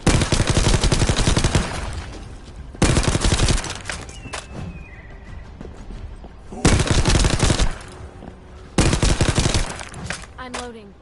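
Rapid bursts of automatic gunfire in The First Descendant, four loud dense volleys separated by quieter gaps holding scattered shots and faint game effects.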